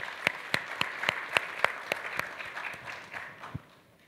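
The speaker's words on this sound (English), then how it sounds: "ask you to give a round of applause for the tremendous work she has been doing" Audience applause at a leaders' panel on emerging economies, a round of steady separate claps about a dozen strong that thin out and fade over a few seconds, fairly distant in a large hall.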